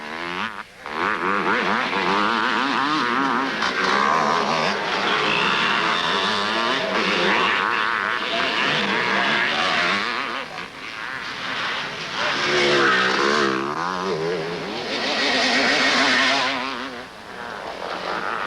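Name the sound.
racing motorcycles passing on track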